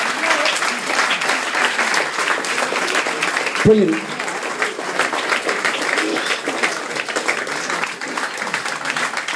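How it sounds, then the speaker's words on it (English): A theatre audience at the Marlowe Theatre in Canterbury gives the sculptor Dominic a big, steady round of applause, with someone briefly speaking over the clapping partway through. "Great big round of applause to Dominic"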